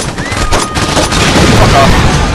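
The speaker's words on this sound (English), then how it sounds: "Pistol versus rocket launcher." Gunfire from the video game Saints Row 2, a loud, dense burst of shots and explosive booms filling the whole moment, with game noise layered over it.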